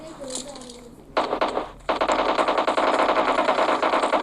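Rapid gunfire erupts in a video game firefight, starting with a short burst and then a sustained, loud stream of automatic shots that runs to the end, after a quieter opening.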